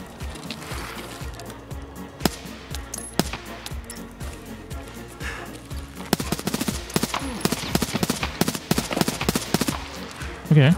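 Gunfire in the video game Escape From Tarkov: a few scattered sharp shots early, then a rapid dense string of close, loud reports, with people talking through parts of it.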